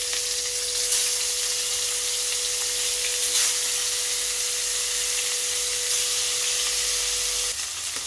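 Rohu fish fries in hot oil with a steady, close broadband sizzle that holds evenly throughout, under a faint thin tone.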